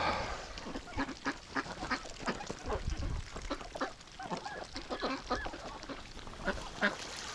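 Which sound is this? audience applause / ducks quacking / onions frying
ducks quacking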